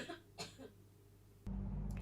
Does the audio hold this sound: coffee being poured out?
no